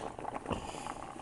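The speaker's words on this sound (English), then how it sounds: "I got potatoes cooking." Potatoes boiling in a pot on a kitchen stove, a close, continuous bubbling and gurgling with soft watery churn throughout a brief moment.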